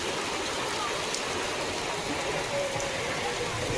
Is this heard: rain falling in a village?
yes